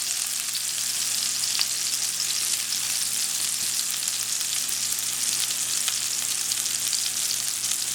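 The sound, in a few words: gola kebabs frying in oil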